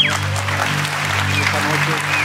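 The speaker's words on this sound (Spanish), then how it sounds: "Dale un fuerte aplauso al Señor." A church congregation claps for the Lord during an evening service, with a wash of applause over a sustained keyboard chord. There is some vocal sound mixed in.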